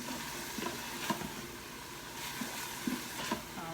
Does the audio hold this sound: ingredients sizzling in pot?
yes